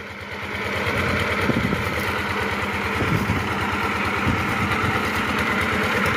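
A machine engine runs steadily on a field, a loud, close mid-range drone with a rough pulsing rhythm that holds without a break.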